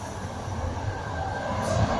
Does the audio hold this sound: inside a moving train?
yes